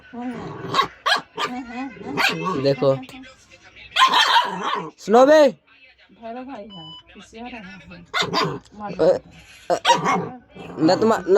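A pet dog barks and yips at home in short bursts, close by, woven through excited talking from people around it.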